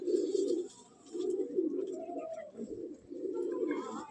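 A breeding pair of loft pigeons cooing close by, several rounded low coos in quick succession with brief gaps between them.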